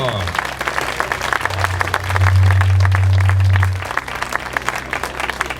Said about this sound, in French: on fait un tonnerre d'applaudissements encore, amis publics